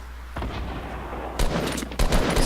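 Fortnite Battle Royale squads combat: rocket launcher blasts and gunfire in quick bursts, several sharp booming shots spaced across a short stretch over low background noise.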